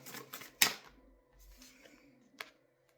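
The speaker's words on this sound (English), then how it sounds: "One more shuffle." Tarot cards riffle in a sharp, loud burst, followed by quieter rustling and handling, then a single crisp snap near the end.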